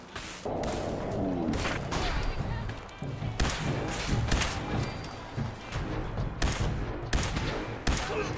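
Gunfire from a Fallout 4 firefight against raiders, with repeated loud shots and rapid bursts cracking over a dense, constant game soundscape, some thuds mixed in and a muffled voice partly beneath.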